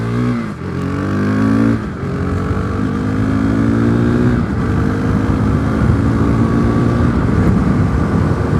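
A 2017 KTM RC390 motorcycle engine pulls loudly and steadily while being ridden, its pitch climbing through the gears with brief dips at each shift, the drone continuous with no talking.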